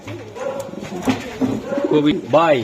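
Pigeons coo close by in soft, repeated throaty calls at a pigeon sale, with voices talking over them.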